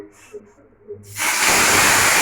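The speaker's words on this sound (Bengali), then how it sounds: "এটা তেলটা গরম, মশলাটা ঢেলে দেবো।" Spices including black cumin tipped into hot oil, a sudden loud hissing sizzle that bursts in after a second of quiet clatter and holds steady to the end.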